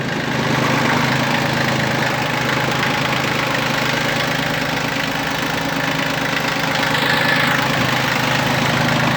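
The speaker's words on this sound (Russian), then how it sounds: "Двигатель работает очень ровно, работает очень четко." The small diesel engine of a Yanmar F15D mini tractor idles close by with a steady, even chugging rhythm that holds at one speed throughout.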